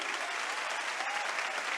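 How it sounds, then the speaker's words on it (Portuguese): A church congregation claps in steady, dense applause that fills the room evenly and continuously for the whole moment, with no single voice standing out. "Vamos dar um aplauso ao Senhor por isso?"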